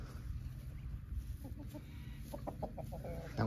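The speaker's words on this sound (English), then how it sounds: "That white chicken's Diane." Several farmyard chickens cluck in short, rhythmic bursts over a steady outdoor background, moderately close and fairly soft.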